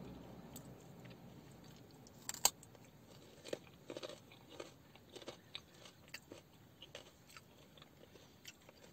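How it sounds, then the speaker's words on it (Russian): Raw fresh carrot being bitten and chewed up close, with sharp crunchy bites followed by a steady run of softer, repeated crunching and mastication, fairly quiet and with no talking. "Я устала уже жевать. Морковка. Я устала тебя жевать."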